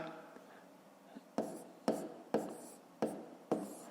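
Chalk or pen writing out long division by hand during a fifth-grade math lesson, heard as crisp rhythmic taps and strokes about every half second over a soft scratchy background.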